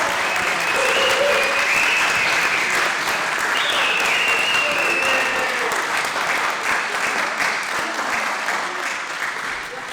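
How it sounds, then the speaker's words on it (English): A large crowd at a Republican party dinner applauds steadily for the full stretch, a dense roar of clapping with a few faint voices and cheers mixed in. "Please give her a warm round of applause."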